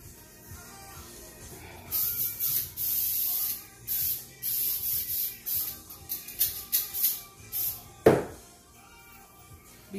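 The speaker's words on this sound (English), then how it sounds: "Use some coconut oil cooking spray." Coconut oil cooking spray from an aerosol can, applied lightly to an ice cream scooper in short repeated bursts of close hissing, followed near the end by a single louder knock.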